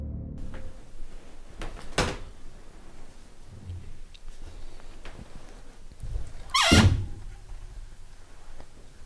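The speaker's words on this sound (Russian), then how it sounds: "Morozov Empezaría a buscar el origen del crujido que escuchó al entrar en la casa" A door creaks open inside a haunted house in the horror video game Tim Morozov, a sharp loud groan near the end after a softer knock early on, over faint ambient noise.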